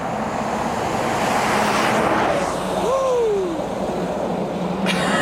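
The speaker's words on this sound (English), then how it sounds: "I think that's the bus, some sort of the bus I will take." A bus rolls past on a snowy, icy road in winter Cappadocia, a steady broadband road and wind rush with a faint rising engine whine midway, fairly close, no talk.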